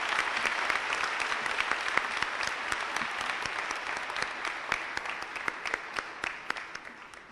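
Sustained applause from an audience at a high school academic awards banquet, a dense steady wash of many hands clapping throughout, with no one speaking.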